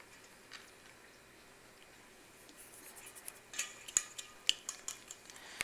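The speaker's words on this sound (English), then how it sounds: "we're just going to keep on stirring this until it reaches 90 degrees" A spoon working through fondant icing for petits fours glacé, first a faint quiet stretch and then a run of sharp taps and scrapes against the pan, closely miked.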